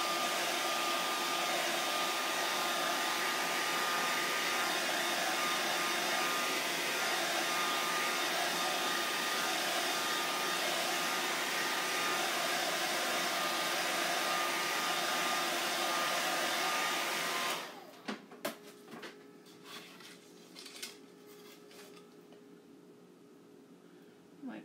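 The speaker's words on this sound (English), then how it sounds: "Dry this really quick so I don't stick my finger in it." Heat dryer blowing close and loud in a steady whoosh to dry a craft transfer for about seventeen seconds, then cutting off to quiet handling clicks and rustles.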